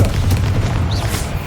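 A Confringo spell blast in Hogwarts Legacy hits with a loud, deep boom that rolls on for over a second, with a brief whistling streak riding over the rumble.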